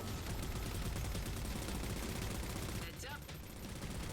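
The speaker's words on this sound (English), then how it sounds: "But that artillery is still firing." Artillery firing in the video game Halo Spartan Ops, a dense, loud barrage of booming shots and gunfire that fills the whole stretch, with a brief voice calling out over it.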